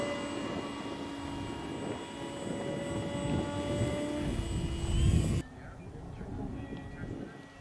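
A large 80-inch RC model airplane makes a low pass at a club flying field, its engine drone rising steady and moderately loud overhead, then cutting off abruptly to quieter background.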